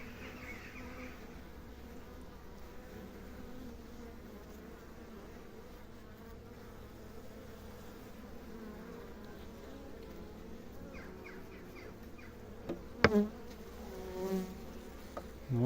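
Honeybees hum in a steady, low buzz around an opened hive, with a few louder bees zipping close past near the end.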